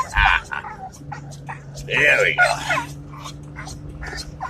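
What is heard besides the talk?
excited dog whimpering and yipping on way to dog park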